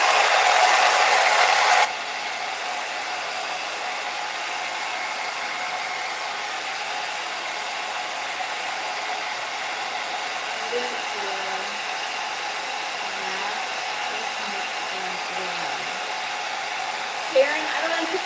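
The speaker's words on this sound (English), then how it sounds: "I'm going to blow dry" A hair dryer blow-drying hair runs steadily and close throughout, a broad continuous whoosh that is louder for the first two seconds and then settles lower, with faint voices and small clicks faintly beneath.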